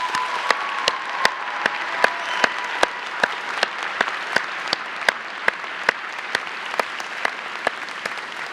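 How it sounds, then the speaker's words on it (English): Graduates and guests applaud their loved ones at a law school commencement ceremony, a steady, full round of clapping from a large indoor crowd with a few sharp, distinct claps standing out near the front throughout. "Graduates, please join me in giving a well-deserved round of applause for all your loved ones."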